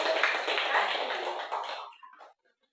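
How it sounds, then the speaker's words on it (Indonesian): Pupils in a classroom clap for a classmate's answer, a dense burst of applause that fades out after about two seconds. "Oke, tepuk tangan untuk"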